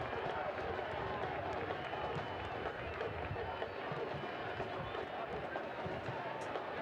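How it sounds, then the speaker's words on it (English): A football stadium crowd at a Louisville City FC versus New York Red Bulls II match reacts after the away side scores, a broad, steady low murmur of thousands of fans under a commentator's voice. "you could hear the disappointment from the crowd as the ball goes in the back of the net"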